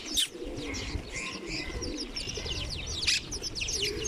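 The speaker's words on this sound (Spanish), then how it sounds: "Aquí habrá ahora mismo más de 200 gorriones." A flock of over 200 house sparrows chirps busily nearby, many overlapping tweets with a soft cooing underneath.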